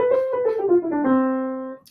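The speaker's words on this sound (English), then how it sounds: "So for every major scale that sounds like this," A major scale played on a single melodic instrument, a quick descending run of clear sustained notes, close and solo, the last note ringing before a soft cutoff.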